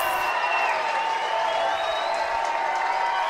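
A crowd at a college rugby match between Saint Mary's Gaels and California Berkeley roars and applauds in a dense, continuous wash of cheering heard from a distance.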